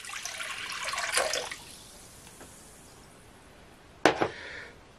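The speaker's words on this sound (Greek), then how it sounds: "Σε ένα μπολ θα βάλουμε ένα κουτάκι αναψυκτικό σόδα." Soda from a can poured into a bowl, a broad fizzing splash in the first second and a half that fades into faint bubbling, followed by a sharp clink near the end.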